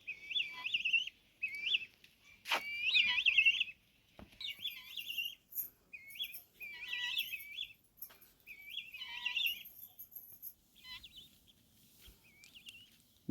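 Small birds at a cow shelter chirp in repeated bright, bouncy phrases with short pauses between them. One sharp louder crack stands out early, and a faint rooster-like call sits in the background. No one speaks.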